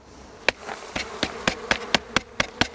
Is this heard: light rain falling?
no